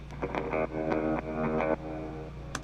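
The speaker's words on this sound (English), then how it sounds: "we have this spy surf guitar kind of sound" A low, twangy surf-style electric guitar plays short repeated spy-theme notes through heavy reverb and distortion, each phrase ringing briefly before the next begins.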